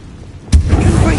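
A Confringo fire spell explodes in Hogwarts Legacy, a sudden loud booming burst that rumbles on after the hit.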